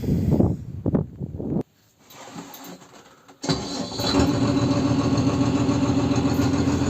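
A diesel tractor engine rumbles unevenly, dips almost silent for a couple of seconds, then settles into a steady loud idle.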